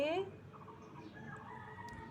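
A bird in a home garden with flowering plants and pomegranate trees gives a short, fairly faint call at the start and another brief call at the very end, with low background noise in between.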